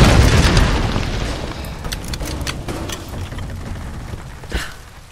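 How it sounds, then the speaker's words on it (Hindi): A grenade launcher round explodes in the Tomb Raider video game, a loud deep boom at the start that rumbles and fades over several seconds, with a smaller pop near the end. "grenade launcher time guys"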